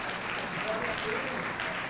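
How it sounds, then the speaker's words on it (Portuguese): Church congregation applauding, a steady wash of many hands clapping at moderate distance, with voices and faint tones underneath. "dê uma salva de palmas bem forte para Jesus. Vamos aplaudir."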